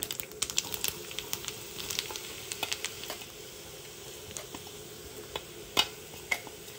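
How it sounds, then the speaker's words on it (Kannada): Masala frying in a hot mustard seed and curry leaf tempering for a Kannada-style gujje sukka, soft sizzling with light stirring scrapes and irregular ticks, fairly quiet and close with no talking. "ಈ ಮಸಾಲವನ್ನು ಈ ಒಗ್ಗರಣೆಯಲ್ಲಿ ಚೆನ್ನಾಗಿ ಫ್ರೈ ಮಾಡ್ಕೋಬೇಕು"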